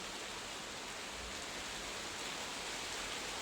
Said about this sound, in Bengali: দেখো জোরে বৃষ্টিটা এলো